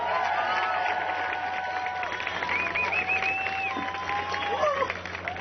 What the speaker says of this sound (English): Give him some round of applause.